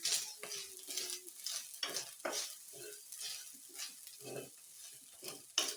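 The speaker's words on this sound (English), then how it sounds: "and we stir this." A spoon stirring spices and beef in a hot pan: repeated scraping, shuffling strokes with light sizzling underneath, close up and uneven in rhythm, with no voices.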